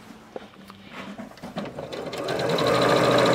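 A sewing machine stitches pieces for a sampler quilt block. It begins with a few mechanical clicks and thumps, then speeds up into a steady, close whirring run.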